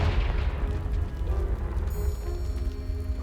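A Confringo blasting spell in Hogwarts Legacy, a loud, deep booming explosion that rumbles and crackles as debris settles, heavy and close.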